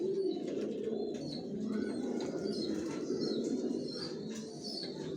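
Racer pigeon chicks at a breeding loft, with wing flaps and shuffling over a steady bed of low cooing from many birds, a close, continuous murmur with a few faint chirps throughout.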